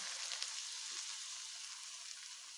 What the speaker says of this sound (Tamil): இப்போ இதை ஒவ்வொன்றா மறுபடியும் பொரித்து எடுத்துடலாம்.